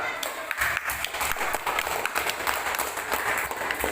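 A class of students applauds a group during a teaching practice lesson, a short, lively patter of many hands clapping close by for a few seconds.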